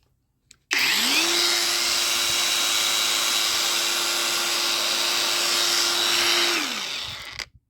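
Battery-powered high-pressure car washer switched on, a loud, steady, whining motor hum that starts abruptly, holds an even tone for about six seconds, then winds down and stops.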